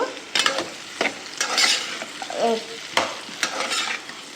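Onions slowly frying in a pan while raw mango and cashew curry is being prepared, with a steady sizzle broken by several sharp scraping stirs of a spatula close by, no voices.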